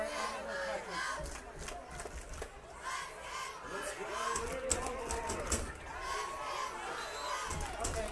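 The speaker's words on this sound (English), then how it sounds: "Tell those Lennard Longhorns to start cheering." A home crowd of Lennard Longhorns fans roars and shouts at a high school football game against Southeast, a loud, sustained wash of massed voices that swells and carries on throughout.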